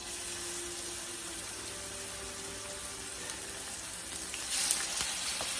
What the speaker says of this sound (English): I'm just going to simply basically sear it, saute it.